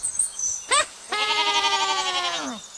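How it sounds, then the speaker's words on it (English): A goat bleats twice, a short cry followed by a longer, quavering, drawn-out bleat, clear and close against quiet surroundings. "Goat!"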